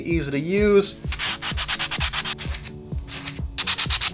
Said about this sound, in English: So we're gonna have to sand it,